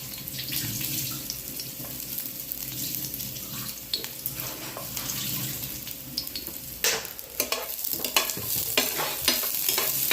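Garlic in a little cooking oil in a hot pan for chicken afritada gives a steady hiss and sizzle, with scraping and stirring clatter growing busier toward the end.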